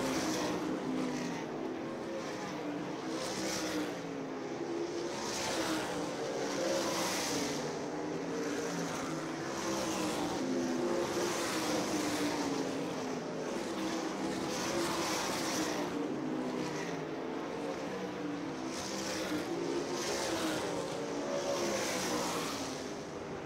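Super sprint race cars circle Colorado National Speedway in a feature race, engines roaring loud and steady as the pack sweeps past in repeated rising and falling waves of noise, with no talk heard.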